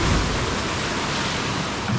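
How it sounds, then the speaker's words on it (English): Broad rushing roar of water as a lab wave generator pushes a wall of water down a flume in a tsunami research facility, steady and dense throughout with no talk. "The wave generator pushes a wall of water down the flume."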